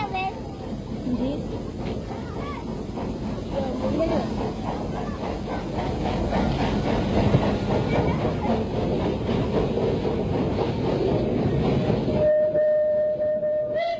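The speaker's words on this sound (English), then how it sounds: "in 1977, the Surabaya steam tram ran for the last time" An old Surabaya steam tram rolls along its rails with a continuous, heavy rumble and rhythmic clatter that builds slightly, then ends in a sustained whistle-like tone, with voices partly heard over the noise.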